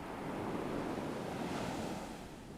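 Ocean waves wash onto a beach in a steady, soft roar of surf, with breezy wind mixed in and no voices.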